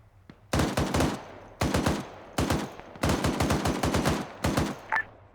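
Bursts of automatic gunfire in an Arma military shooter, several rapid clusters of sharp, loud cracks separated by brief pauses, close and dominant.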